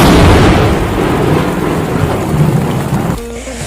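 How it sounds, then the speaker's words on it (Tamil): Heavy rain pours down steadily with rolling thunder, a loud, dense roar filling the whole stretch before easing slightly near the end. "மழை இன்னும் இந்த கொட்டு கொட்டுது"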